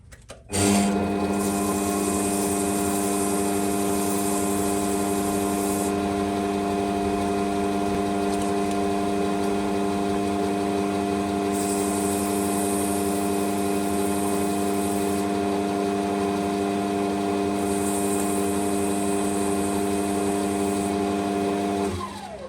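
Steady machine whine of a lathe spinning a tobacco pipe workpiece while it is sanded through successive grits, a continuous loud hum with strong tonal bands, running alone for about twenty seconds.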